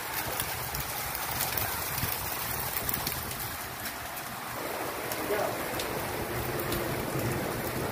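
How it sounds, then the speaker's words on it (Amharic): Steady rain patters on surfaces in Riyadh, Saudi Arabia, with a dense hiss, soft and continuous, with faint background murmurs and a bird call in the distance. "በጣም ደስ የሚል ዝናብ ነው"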